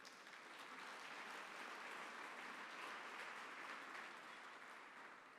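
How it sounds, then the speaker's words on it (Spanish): A church congregation claps together in sustained, dense applause during a sermon, a steady wash of many hands that holds evenly for several seconds, with no speech. "Denle un fuerte aplauso al Señor."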